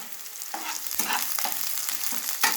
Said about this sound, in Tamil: இப்போ இதில் கொஞ்சம் கருவேப்பிலை போட்டுக்கலாம்.